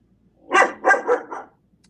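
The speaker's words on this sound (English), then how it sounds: "Hey, what are you barking about?" A dog barks four times in a quick, fairly close burst, each bark loud and distinct with short gaps, then stops.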